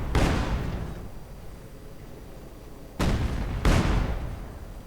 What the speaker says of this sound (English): But good use here in response from Joe, firing away the SU-76 in barrage mode.